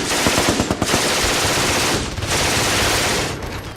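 Sustained machine-gun fire in a wartime beach battle as landing craft ramps drop, a dense, loud, continuous rattle of rapid bursts with brief dips, filling the scene without any voices.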